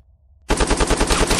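Rapid automatic gunfire in the military shooter ArmA3, a loud close burst of about a dozen evenly spaced shots starting abruptly after a short quiet lead-in and continuing steadily to the end.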